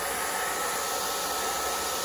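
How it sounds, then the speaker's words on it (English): Hair dryer blowing over freshly clear-coated HO scale steam engine kit parts, a steady loud whooshing roar that holds constant throughout with no talk. "you can take a hairdryer to it."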